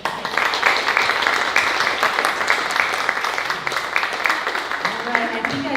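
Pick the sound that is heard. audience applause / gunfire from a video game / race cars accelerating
audience applause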